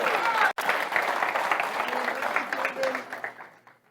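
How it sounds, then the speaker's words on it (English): A Sunday morning church congregation claps for a guest, dense applause that stays fairly even for a few seconds and then fades out, with voices murmuring underneath. "Y'all give Stephen Wolford a hand clap this morning."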